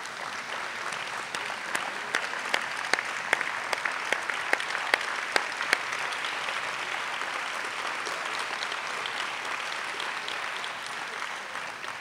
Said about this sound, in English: please just stand up and let's give you a round of applause one more time